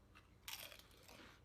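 Freshly opened nacho cheese Doritos chips are bitten and chewed up close, with a crisp crunch at the first bite followed by rapid crackling chews; quiet overall, with no talk.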